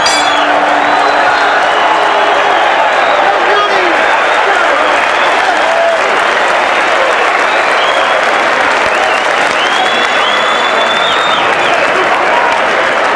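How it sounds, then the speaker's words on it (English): A boxing crowd at the Mirage in Las Vegas applauds and cheers in a dense, continuous roar, with scattered whoops rising over the clapping for the whole stretch. "The crowd appreciating the efforts, particularly of Australian Jeff Fenech."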